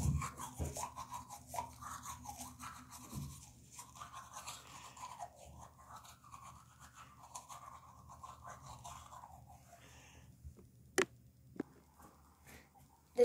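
Soft-bristled original dentist toothbrush scrubbing teeth up close, a steady rhythmic brushing rasp running for most of the stretch, then tapering off with a few sharp clicks near the end; no talking.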